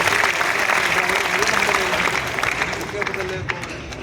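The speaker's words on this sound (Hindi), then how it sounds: "एक बार जोरदार तालियों के साथ" A crowd at a lively gathering claps loudly and steadily, with some crowd noise and voices mixed in, the applause gradually tapering slightly toward the end.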